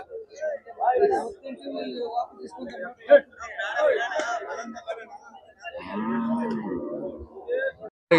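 Cattle lowing and moaning at the Chintamani cattle market, with several drawn-out moos rising over steady crowd chatter and nearby voices.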